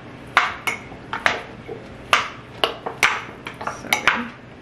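A spoon clinks against a jar or bowl while overnight oats with oat milk, chia seeds and cinnamon are stirred, giving a run of sharp, irregular metallic taps close by.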